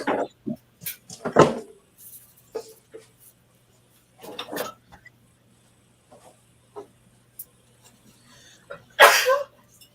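Person sneezing in a kitchen during freezer meal prep, several sharp, loud bursts spread across quiet gaps, with the strongest sneezes near the start and end.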